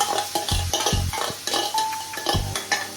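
Marinated paneer in a kadhai of hot oil and ghee, sizzling steadily as a spoon stirs and scrapes, with a few dull knocks against the pan standing out close and clear.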